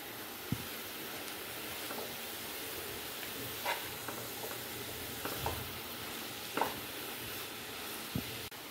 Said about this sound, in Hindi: आप इसको मिक्स कर सकते हैं।